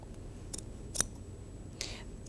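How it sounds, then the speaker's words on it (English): Sharp scissors with the tip sliding through the knit backing of fur fabric: three short, crisp snips spaced apart, close and fairly quiet, with no talking. "just by cutting the backing, sliding the scissor point along, you'll not be cutting the fur"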